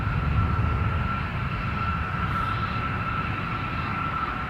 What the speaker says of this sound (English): Gulfstream G50 taking off.